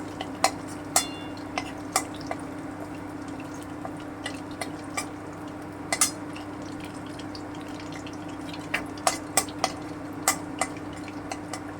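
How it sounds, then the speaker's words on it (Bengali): Two dried red chillies frying briefly in a pan of hot oil give scattered sharp crackles and pops over a low, steady hum, irregular and fairly close, with no talking. "শুকনো লঙ্কা ভেজে নিচ্ছি দুটো শুকনো লঙ্কা"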